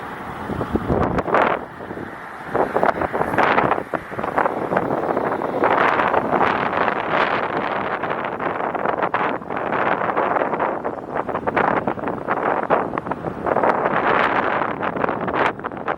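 Strong gusts of wind roar and buffet the microphone outdoors at the Epic Universe theme park construction site, loud and continuous with rustling surges and no speech.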